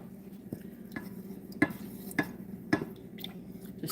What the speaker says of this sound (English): Just stirring it up right now.